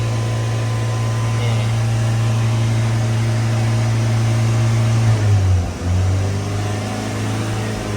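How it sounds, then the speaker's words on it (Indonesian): Radiator cooling fan switching on in a Daihatsu Xenia that is running hot, a steady mechanical whir over the engine's hum with a brief dip, close and loud. "Ini kipas on."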